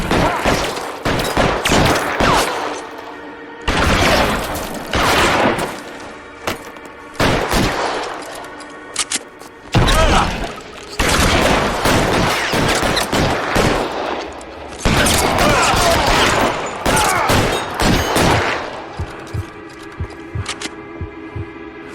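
Gunfight in the video game L.A. Noire: repeated bursts of loud gunfire and rapid shots crack in clusters, separated by brief lulls, with faint game chatter underneath.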